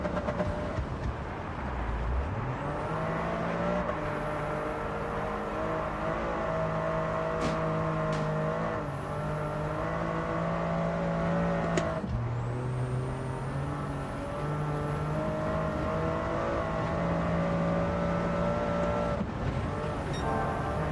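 Racing car engine in a driving game time trial, a loud sustained high-revving drone that shifts pitch through gear changes, with brief dips as the throttle lifts, alone without talk.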